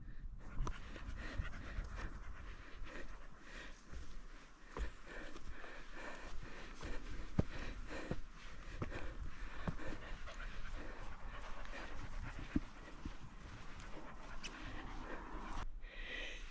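Dogs panting steadily and close on a hot Welsh mountain walk from the National Trust Craflyn car park, with occasional sniffs and snorts, continuous heavy breathing throughout and no talk.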